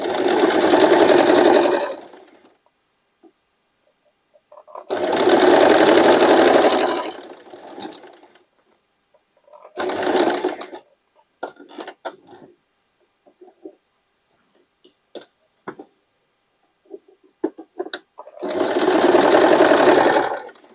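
A sewing machine stitching a denim jacket made from old jeans runs in four loud bursts of a few seconds each, close by, separated by pauses with faint clicks and handling noises.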